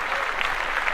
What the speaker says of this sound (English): Yes, clap that up